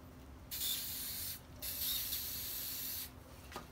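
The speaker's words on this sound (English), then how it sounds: "I'm going to spray the rag and then wipe" Two long bursts of spray cleaner hiss onto a rag during vinyl stripe removal on a Scat Pack, each lasting about a second or more, separated by a short pause and followed by a faint click.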